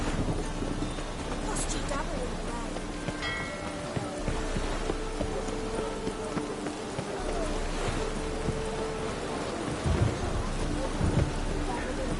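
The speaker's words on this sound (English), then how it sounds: "Storm, damn it." Steady, dense rain falls through a thunderstorm in The Witcher 3: Wild Hunt on PS4, with low thunder rumbles rolling in near the end.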